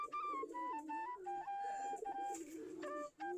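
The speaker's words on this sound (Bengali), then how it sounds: "কিরকম করে ডাকতেছে দেখেন কবুতরগুলা" Giribaz and Golla pigeons in a loft of some thirty pairs coo after feeding on wheat, with soft, throaty rolling calls overlapping in a steady chorus, close and with no talking.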